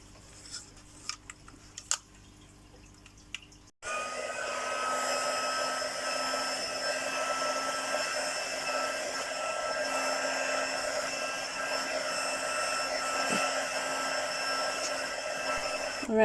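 A handheld heat dryer blows steadily over ink-smooshed paper backgrounds and tags, switching on after a few quiet seconds of small handling clicks and then running as a loud, continuous whir to the end.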